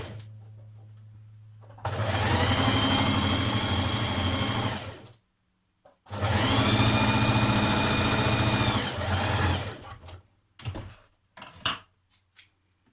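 A sewing machine stitching the seams that join three tiers of a skirt runs in two long, steady bursts of rapid whirring close by, with short pauses and a few faint handling clicks at the end.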